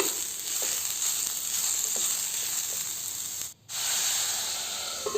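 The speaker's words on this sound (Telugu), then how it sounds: "ఒక 5 మినిట్స్ వరకు మూత పెట్టి ఫ్రై చేసుకుందామండి" Beetroot frying in oil in a covered pan gives a continuous, even sizzle and hiss throughout, close up, broken by one brief dropout near the end.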